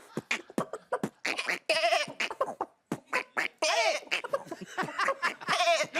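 A person imitates goat bleats and hen clucks inside a beatbox rhythm, with punchy vocal percussion bursts alternating with wavering bleating and clucking calls, close and loud.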